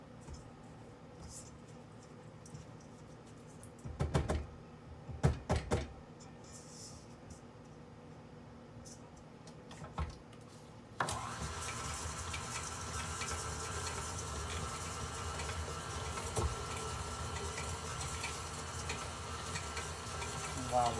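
A stand mixer with a paddle attachment churns a batch of oatmeal raisin cookie dough in a kitchen, a steady whirring motor drone that starts abruptly partway through and runs on after a few scattered knocks and clatters.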